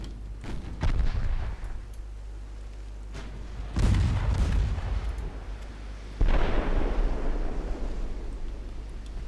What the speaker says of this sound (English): Good hit from a 9-inch gun from one of the armored cruisers.